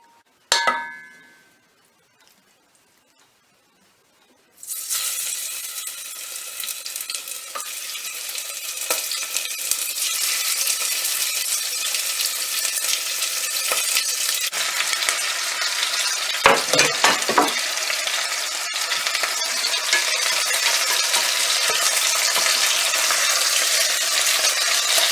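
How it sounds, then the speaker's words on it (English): Rabbit portions dropped into a hot pan with melted fat, a sharp clang, a few seconds of near silence, then a loud sustained sizzle with occasional stirring clatter. "as soon as that's hot I'm going to pop the rabbit portions in to fry them off"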